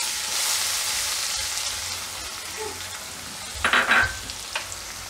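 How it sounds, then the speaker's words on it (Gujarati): Chopped onions and green chillies fry in hot oil with asafoetida, giving a steady close sizzle with a brief stirring clatter near the end. "ડુંગળી આપણે આ રીતે તેલમાં થોડીક વાર ચડવા દઈશું"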